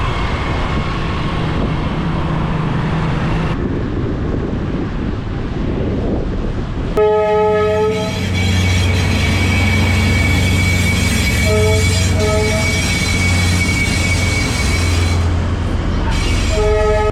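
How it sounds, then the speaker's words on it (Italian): A 22-wagon freight train rumbles past with loud rolling wagon noise, then a long blaring horn and metallic squeals ring out over the steady clatter. "Un treno con 1, 2, 3, 4, 5, 21, 22 vagoni."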